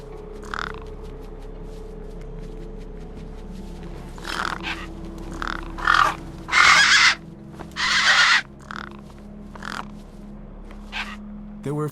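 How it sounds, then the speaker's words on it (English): Crows, called gang birds, caw in the game Beyond a Steel Sky: scattered harsh croaking calls, a few louder bursts near the middle, over a steady low background hum. "The gang birds were eyeing up the corpse hungrily."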